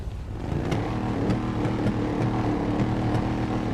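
A Maybach car engine in the GTA 5 video game runs steadily, a loud continuous low hum with faint periodic clicks throughout, no voices present.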